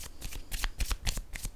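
A deck of cards being shuffled close up, several quick riffling bursts of papery flutter and snaps in a short sequence.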